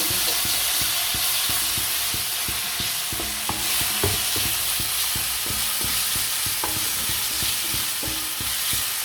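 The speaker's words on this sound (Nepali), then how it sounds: "अब यो लसुन अदुवाको पेस्ट हालेर यसरी चलाइ" Garlic-ginger paste is stirred into fried, reddened onions in a hot pan for a raw banana curry, with rhythmic scraping strokes of the spoon repeating over a constant close sizzle.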